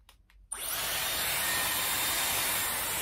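A Dyson Airwrap hair styler switches on after a brief quiet moment and runs alone as a loud, steady, close airy whoosh with a high motor whine for the rest of the clip.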